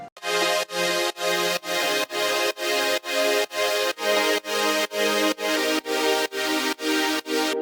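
Processed synth chords with EQ, saturation, OTT compression and stereo enhancing pulse in a steady rhythm, about a dozen bright, dense stabs each cut off sharply, loud and alone.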